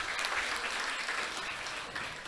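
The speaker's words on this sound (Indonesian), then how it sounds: "Boleh berikan tepuk tangan dong untuk RRI?" Students at a high school election-education event applaud together in a brief, steady wash of clapping, moderately loud in a large room.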